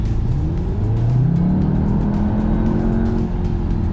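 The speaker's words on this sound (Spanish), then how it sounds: "era el tema del sonido del motor. Se escucha muy bien y demás." A 2021 Cupra León engine revs with a loud, continuous drone that climbs in pitch and then holds high, heard up close with no talking.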